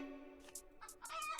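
Chickens in a fenced pen in the farming card game Terracards, clucking in quick bursts with a drawn-out squawk, close and clear, with no talk.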